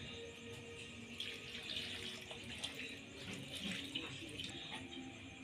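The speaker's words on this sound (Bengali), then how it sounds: "এবার ওর মধ্যে পরিমাণ মতো জল দিয়ে দেব।" Water is poured into a pressure cooker holding cut potatoes, a steady splashing stream running continuously at close range with no talk.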